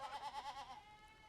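Goats in the cozy indie video game A Story Beside give a short, wavering bleat that trails off, heard alone without talk.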